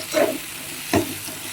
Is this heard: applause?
no